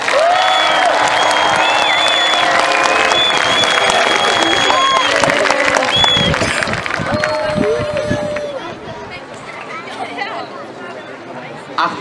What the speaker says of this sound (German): Deswegen großen Applaus für unseren Priapus!